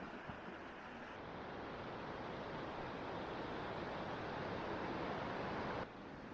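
Steady rushing water of the Bechler River at a backcountry crossing in Yellowstone National Park, a continuous broadband roar that stays even and fairly close, with no voices.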